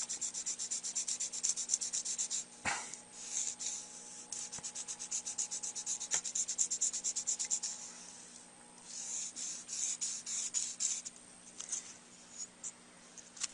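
Fine grit sandpaper, around 300 to 400 grit, rubbing back and forth over a tip in steady close strokes, with a soft scratchy rasp and a few brief pauses.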